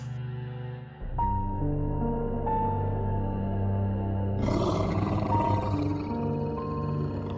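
A deep, drawn-out cartoon tiger roar with a rumbling low end swells up and holds, then grows harsher and louder toward the end, sounding like an exaggerated tiger growl.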